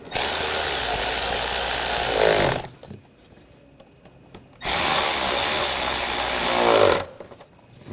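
A power driver tightens the snorkel clamps on a 2004–2012 Chevrolet Colorado 3.7L during starter replacement. It gives two loud, sustained whirring runs of about two and a half seconds each, separated by a short quiet pause.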